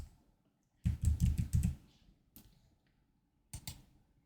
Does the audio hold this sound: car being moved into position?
no